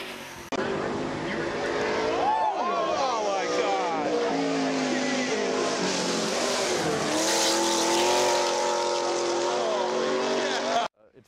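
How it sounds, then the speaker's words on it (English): A 1999 Chevrolet Monte Carlo V8 race car climbs Pikes Peak. The engine roars loud and steady, rising and falling through gear changes for about ten seconds, then cuts off abruptly. A voice speaks over it. "Next up is Layne Schranz, driving a 99 Chevy Monte Carlo."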